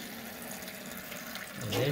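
Water runs from an opened supply valve into a newly installed toilet, a soft continuous trickling that swells louder near the end of the brief stretch, with no talk.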